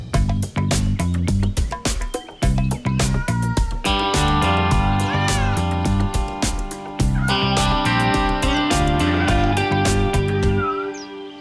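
Several kittens meow loudly and insistently, their cries overlapping and repeating close by, with no talking.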